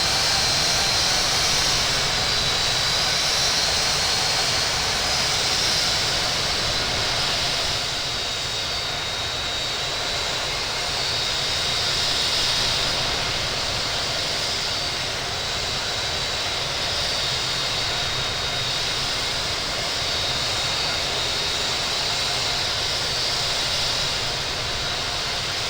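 A Southwest Boeing 737 MAX 8 jet taxis toward runway 22 right at JFK, its engines giving a continuous loud whining roar heard from on board, steady throughout with no voices.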